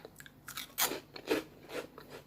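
Homemade crunchy croutons for a Caesar salad being bitten and chewed up close, a quick series of crisp crunches in an uneven rhythm, with no talking.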